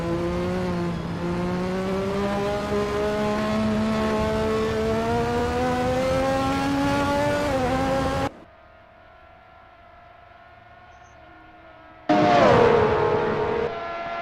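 Onboard a race car during an endurance race, a steady engine drones at high revs with rising pitch before dropping to a faint hum, then another engine roars back in loudly near the end.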